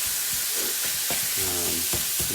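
Sausage for breakfast gravy sizzles in a pan, a close, steady bright hiss throughout with a few soft knocks and a brief faint hum.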